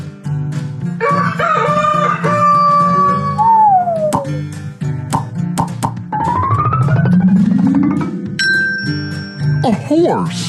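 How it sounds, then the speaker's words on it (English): A rooster crows in a long drawn-out call amid other farmyard animal sounds, with a voice talking over parts of it; the crow is loud and close, and clucking and tonal calls follow. "A rooster!"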